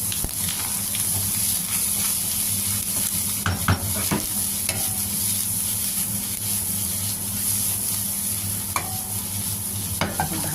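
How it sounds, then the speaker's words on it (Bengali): Green chillies stirred and frying with fish roe and bitter gourd in a pan: a constant loud sizzle of hot oil, broken by a few sharp scrapes and knocks of the spatula against the pan, with no talking. "আবার একটু নাড়াচাড়া করব, একটু ভাজবো।"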